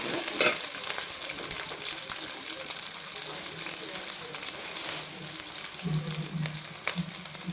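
Onions and spices sauté in a pan for tomato kurma, giving a continuous close sizzle with scattered stirring clatter throughout.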